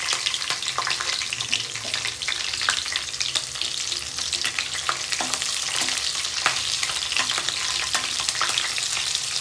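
Mustard seeds, cumin and chillies frying in oil, with a loud continuous sizzle broken by dense crackles and pops at close range, with no voices.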